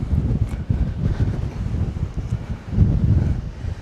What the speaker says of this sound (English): I do apologize if you hear the wind. It has gotten crazy windy up here